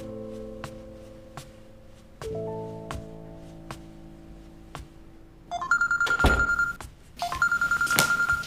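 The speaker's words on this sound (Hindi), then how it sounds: "तुम्हारी कॉल आ रही है, उठा क्यों नहीं रहे?" A phone rings with an incoming call, its electronic ringtone chiming in repeated bursts, growing louder over soft background noise.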